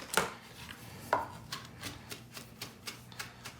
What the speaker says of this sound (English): Chop that up finely.